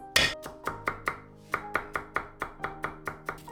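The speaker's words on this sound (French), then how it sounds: "Je hache 5 gousses d'ail." Knife chopping five garlic cloves on a board, about fifteen sharp, evenly spaced close-up chops in a steady rhythm with no talking.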